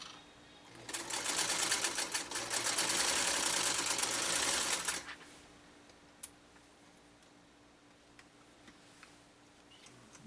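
A restored Singer 192K sewing machine runs steadily through bubblegum material, a loud, close, rapid mechanical chatter lasting about four seconds before stopping, followed by faint clicks and room quiet.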